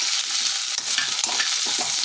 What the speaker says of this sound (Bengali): তেল গরম হয়ে গেছে, কালি জিরা দিয়ে দিচ্ছি। এখন পেঁয়াজ কাঁচামরিচ দিয়ে দিলাম।